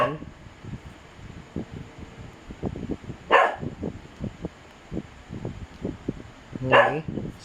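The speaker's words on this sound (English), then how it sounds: "Apologies for the dog." A dog barks sharply twice, a few seconds apart, cutting through quieter background sounds and soft speech.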